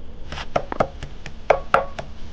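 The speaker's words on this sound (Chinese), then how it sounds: "把它切碎剁碎" A cleaver chops pork finely, delivering about eight sharp knocks at an uneven pace, close and moderately loud, with no voices.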